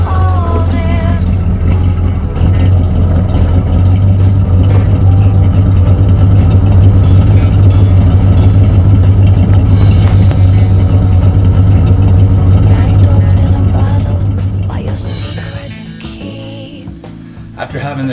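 A 1966 Pontiac Acadian project car's engine runs with a steady, loud low rumble and a deep, constant hum, fading somewhat near the end.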